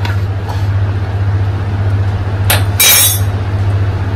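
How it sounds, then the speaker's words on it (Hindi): A spoon clinking against a metal strainer while coating fries with cornflour, two brief bright metallic taps over a steady low hum. "सबसे पहले हम अपना झरना लेते हैं, उसके ऊपर हम चम्मच से डाल देते हैं।"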